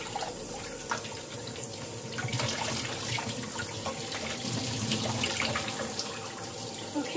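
A tap runs cold water into a sink in a steady, continuous splashing rush, near and moderately loud, shifting slightly as the stream hits the basin, with no talking.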